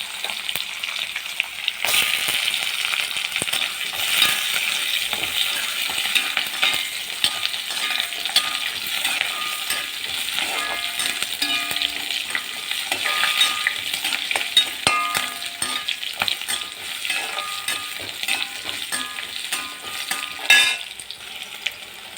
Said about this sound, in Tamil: கருவேப்பிலை சின்ன வெங்காயம் கேரட் இதை முதல்ல போட்டு கொஞ்சம் வதக்கிக்கணும்